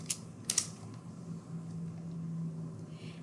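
Keys tapped on a computer keyboard while entering an article title into a library search, a few quick clicks in a short burst near the start, then a quiet room hum with no talking.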